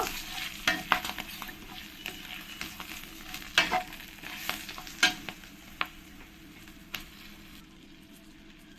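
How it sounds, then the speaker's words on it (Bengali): Ground coriander and cumin powder frying in oil in a pan for a taro and rohu fish curry, a steady low sizzle with repeated scraping stirs and a few sharp spatula clinks, close and without talk. "ধনের গুঁড়ো জিরের গুঁড়ো সেটাও দিয়ে দেব ভালো করে একটু ফ্রাই করে নেব"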